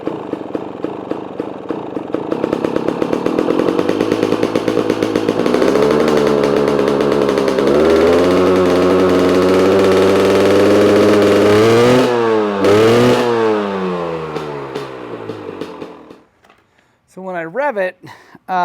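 A KTM motorcycle engine with a charging fault revs hard and loud for about fifteen seconds, its pitch sweeping up and down through several climbs, then cuts off abruptly, followed by a short burst of further revving.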